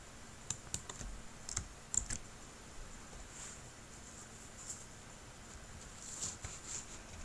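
Typing on a computer keyboard while entering numbers, a quiet, close run of scattered key clicks, sometimes in small bursts and sometimes alone, with no voices.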